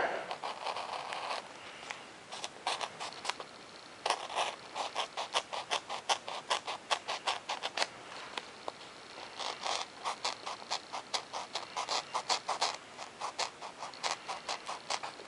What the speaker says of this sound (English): now I'll use my X-Acto knife on where the elevator runs through here